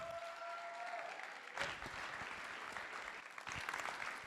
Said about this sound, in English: Can we get a huge round of applause for all of the speakers tonight?